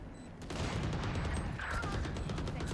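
Rapid gunfire bursts from the video game Valorant during a tense match, loud and dense, crackling in sustained volleys across the whole stretch.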